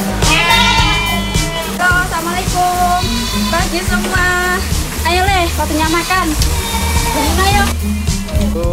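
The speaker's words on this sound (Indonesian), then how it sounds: "menyapa kambing-kambingnya sambil memberi makan pagi" Goats bleat repeatedly while being fed in the morning in a village in Mojokerto, East Java. Their wavering cries overlap and sound close, over a constant noisy background with a voice mixed in.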